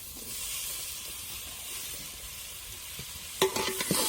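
Raw onion and tomato sautéing in a pan for village-style khichdi, a soft steady sizzle and hiss that gives way near the end to a few sharp, close stirring clatters.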